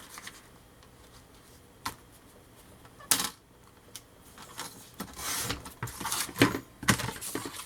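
Scissors cutting scrapbooking paper for small handmade books and their box: several crisp snips and rustles, close and dry, building to a run of quicker cuts near the end.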